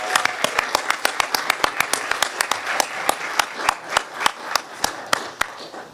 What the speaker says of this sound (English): how about one more round of applause for Maria?